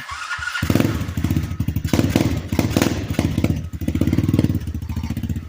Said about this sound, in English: We'll give it a little bit of a rev. You can hear the stock exhaust.